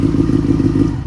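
A 250cc-swapped Honda Grom motorcycle idles loud and close with a steady, throbbing low rumble, then starts to fade as the engine is switched off at the very end.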